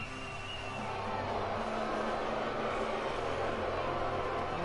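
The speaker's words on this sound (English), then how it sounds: "Listen to that crowd is not happy" Unhappy wrestling crowd at a live show, a steady broad roar and murmur of many voices filling the arena throughout, moderately loud and continuous.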